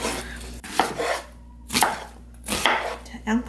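Knife chopping an onion into large chunks on a cutting board: a few sharp, close thuds spaced irregularly with pauses between them, no voices.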